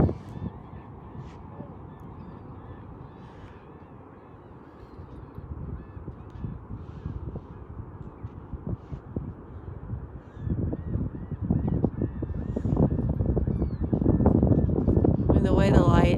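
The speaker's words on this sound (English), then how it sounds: "Goose." Geese honk outdoors near a windy beach at sunrise, the calls growing louder and more frequent toward the end amid wind noise on the microphone.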